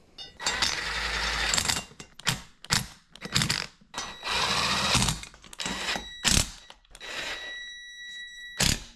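Screws are driven in with a ratcheting tool while a twin-over-twin bunk bed with stairs and storage is assembled. Bursts of clicking ratchet and whirring come at uneven intervals, close and fairly loud, with short pauses between them.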